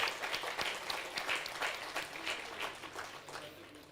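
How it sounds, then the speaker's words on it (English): Applause from an outdoor crowd at an International Day of Yoga event in Amsterdam's Dam Square, distinct claps building into a steady round that fades slightly toward the end, somewhat distant and soft. "Please give a big round of applause."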